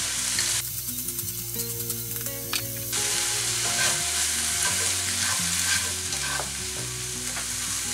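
Chicken with garlic and black pepper fries in a pan, giving a continuous close sizzle with intermittent scraping and clattering as it is stirred, and no voices.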